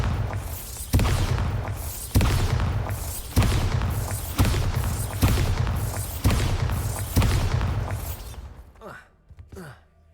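Repeated Bombarda spell blasts in the Hogwarts Legacy video game, a series of heavy booming impacts roughly once a second, loud and close, fading into quieter game ambience at the end.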